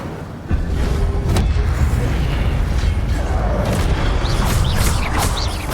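An Incendio fire spell goes off in Hogwarts Legacy with a sudden loud whoosh that turns into a sustained roaring blaze, with crackling bursts over the fiery rumble.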